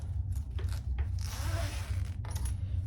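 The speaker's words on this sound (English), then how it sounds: "And I'm just gonna unzip my zipper." A zipper on a fabric crossbody bag is pulled open in a short, close, crisp rasping run with a few small clicks before and after, quiet and without talk.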